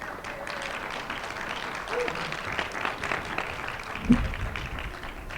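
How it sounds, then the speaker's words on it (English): A live broadcast audience gives moderate applause for Representative Alan Grayson, a steady wash of clapping that swells slightly midway and carries a brief thump near the end. "Please give him a round of applause."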